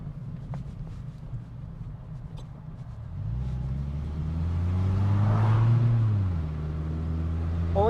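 A Toyota Celica TRD engine idles with a low steady rumble, then revs up in a smooth rising and falling sweep before settling back to idle, close and fairly loud.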